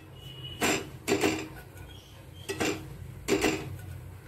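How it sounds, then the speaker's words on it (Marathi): Grated coconut being roasted in a pan for Vidarbha-style shevbhaji masala, with a few scraping stirs of a spoon against the pan at uneven intervals over a quiet background. "खोबरं पण आपल्याला अशाच प्रकारे मस्त असं भाजून घ्यायचं आहे."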